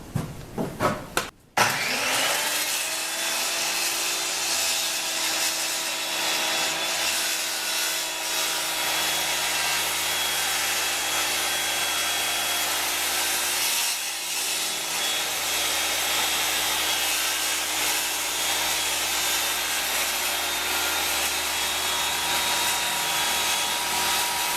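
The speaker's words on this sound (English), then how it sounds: "I'd like to sand this down to the table, or to the piece it's going to fit in" A power sander works a wooden joint in a woodshop with a continuous loud whirring hiss, starting after a few brief knocks and running steadily with one short dip partway through.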